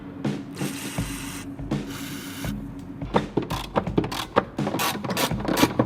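A ratchet wrench undoes two nuts on top of a Volvo 850 engine bay after the cowl grill is removed, giving bursts of quick, close metallic clicks over a low steady hum.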